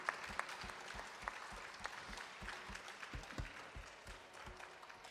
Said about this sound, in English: Please give another round of applause for our orchestra and Rithika for a great start to the evening